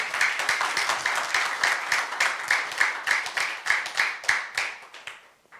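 A church congregation of young adults claps in rhythm, with sharp, evenly spaced claps pulsing steadily at a moderate distance before fading out at the end.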